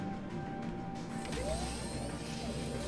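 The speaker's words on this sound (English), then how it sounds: "Let's pop out the other one on this side too because I like the sound." A vehicle screen panel popping out in Star Citizen, inside a Tumbril Storm tank or Lynx rover: a short mechanical ratcheting whir with a rising servo tone, over a steady background hum.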